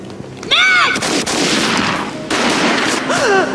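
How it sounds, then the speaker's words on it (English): Gunfire from the Max Payne video game, loud and sustained as a burst of shots over bright, whistling game effects and a dense background din. "A gunshot boomed and she fell down in slow motion."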